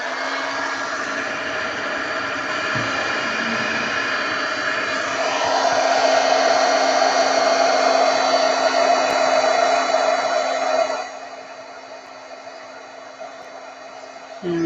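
A heat tool blasts hot air over embossing powder on a card, a steady loud whooshing hum that intensifies midway, then drops off near the end.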